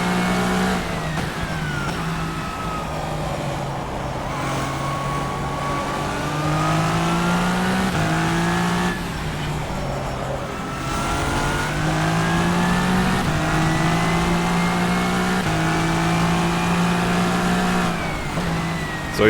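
Ferrari 488 GTE race car in the rFactor 2 racing sim, its engine droning loud and steady throughout, pitch climbing through each gear with brief dips at shifts, no talking.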